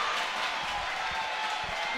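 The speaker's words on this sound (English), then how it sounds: "The crowd is into it." Basketball arena crowd cheering and applauding at a Grambling State versus Bethune-Cookman men's game, a steady broad wash of noise at moderate level with no single voice standing out.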